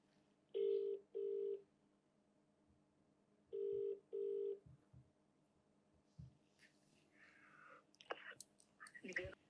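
A phone call placed: four bright dialing tones in two pairs, loud and close, followed by fainter clicks, rustling and soft line noise toward the end.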